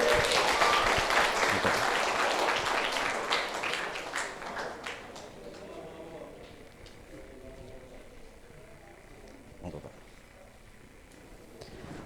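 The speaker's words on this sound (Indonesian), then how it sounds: "Kita sambut dengan tepuk tangan Bapak Sobri SAG." Broadband clapping from an audience fills the opening seconds, loud and dense, then thins and fades into a quieter room with scattered sounds.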